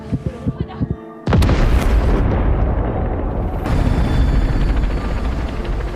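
A suicide bomb explosion in a crime film: a loud sudden boom breaks in after a few rhythmic thumps, followed by a long roaring, rumbling aftermath.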